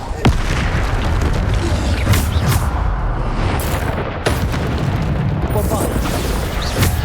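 A Bombarda spell explosion in the Hogwarts Legacy video game, heard as loud booming blasts amid dense, continuous combat noise while a voice talks over it.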